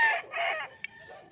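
A fighting rooster on a gamecock farm in Bauang, La Union crows in a couple of moderately loud, close calls, followed by a brief sharp click and quieter trailing sound.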